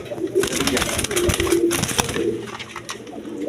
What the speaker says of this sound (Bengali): এক পেয়ার আকাশি কালার রাসগোল্লা কবুতর দেখেন